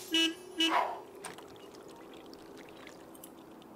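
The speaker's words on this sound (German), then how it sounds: "Wer hupt da?" A car horn honks twice in quick succession in The Sims 3, two short loud toots near the start, followed by a quieter game background.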